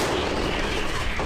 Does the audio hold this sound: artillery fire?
yes